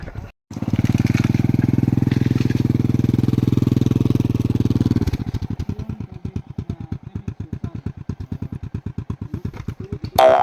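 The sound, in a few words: Honda Click motorcycle engine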